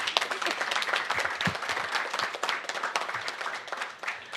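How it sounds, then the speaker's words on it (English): Audience applause at a development conference speech on Africa's women and youth: many hands clapping in a dense, continuous patter that fills the room, loud and steady from start to finish. "Please clap to that."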